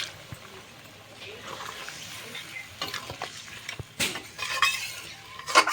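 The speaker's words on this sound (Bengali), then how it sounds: "মাংসটা সিদ্ধ হওয়ার জন্য 1 বাটি জল দিয়ে দেবো।" Water poured from a bowl into mutton cooking in a pot, scattered clinks and scraping with a rising splash and sizzle toward the end, loud and close.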